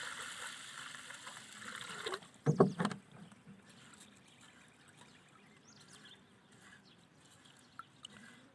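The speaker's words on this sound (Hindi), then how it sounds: "2 से 3 मरतबा हम इसको अच्छी तरह से धोएंगे" Rice is washed in water before cooking. There is one short, close sloshing splash burst, followed by faint trickles and drips in a quiet kitchen.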